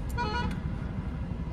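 Car horns toot over the hum of a long, stalled traffic jam on an Indian road during election checkpoints: a couple of short, bright honks near the start, then a steady low engine drone with no talking.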